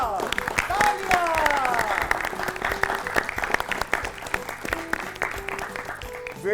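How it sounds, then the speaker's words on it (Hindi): Applause for a correct answer on a children's school quiz show, a bright burst of clapping mixed with playful sound effects and chiming tones, with some talking over it. "सही जवाब, तालियां।"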